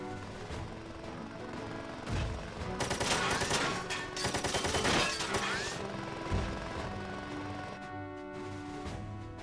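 Dense mech weapon fire from the tactical video game Front Mission 4, with loud overlapping bursts and booming impacts peaking mid-clip over a steady layer of game music and effects.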